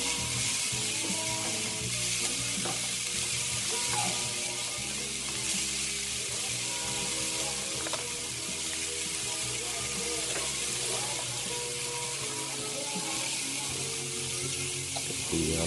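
Butter sizzling in a frying pan with onions, a constant dense hiss heard close and even throughout, with faint stirring and clinks under it and no talking.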